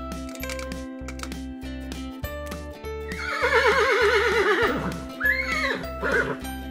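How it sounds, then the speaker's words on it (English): A horse whinnies loudly over a steady rhythmic musical beat, its call rising then falling in a wavering neigh, followed by a shorter second whinny. "This animal is a horse."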